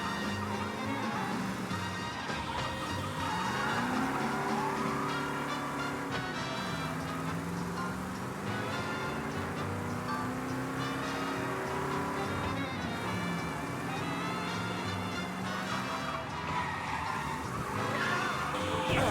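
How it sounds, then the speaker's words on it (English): Car in Mafia Definitive Edition with tires locking up, a sustained squealing skid layered over steady engine drone and faint rain, continuous and fairly loud throughout with no voice. "Locked up my tires a little there."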